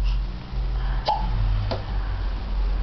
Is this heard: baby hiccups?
yes